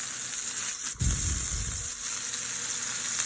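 Steaks searing in a very hot pan, a steady close sizzle with a brief louder burst of spitting fat, no talking over it.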